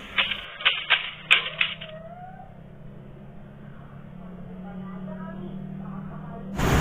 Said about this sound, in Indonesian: Soekarno memerintahkan Sayuti Melik untuk mengetik teks proklamasi.